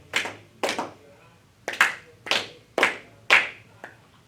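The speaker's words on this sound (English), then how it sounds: "let's clap it together" A class claps a counted rhythm in several bursts in a steady rhythm: two claps, a pause, then four evenly spaced claps, with a soft final tap.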